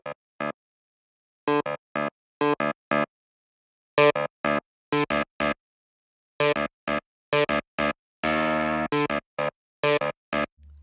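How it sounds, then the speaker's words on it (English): Nord Grand stage piano on a clavinet sound, played through a Fender Twin amp model with drive distortion, gives short, punchy, gritty staccato notes and brief chords in uneven bursts with silence between, loud and close, with no talking. "I want to put a bit of drive on it,"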